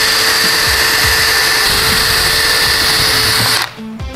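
A power drill whines steadily at high speed as it bores into plastic ski goggles, a loud close grinding drone that cuts off abruptly near the end, leaving a brief quieter clatter.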